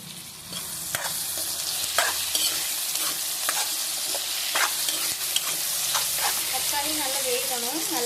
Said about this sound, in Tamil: வெங்காயம் நல்லா வதங்கினோம்னா தக்காளி போட்டுக்கலாம்.